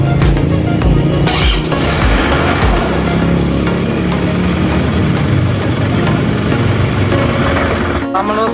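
An Isuzu Panther diesel engine, left standing since the previous day, cranks and catches on a morning start, then settles into a loud, steady rumbling idle that runs nearly the whole time before a brief dropout near the end.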